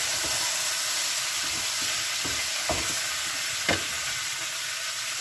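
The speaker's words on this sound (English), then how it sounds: "And then add pork. Give it a good stir." Pork frying in a pan for soy sauce pork, with a steady sizzle and hiss throughout and a few louder scraping stirs cutting through at intervals.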